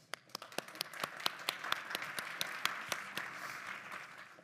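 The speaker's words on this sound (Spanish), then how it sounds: "Cuando queráis, un aplauso." Audience applause with sharp individual claps standing out over a dense, steady patter of hands, lasting a few seconds.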